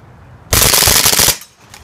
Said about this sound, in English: It's probably gonna shoot good because it's CO2.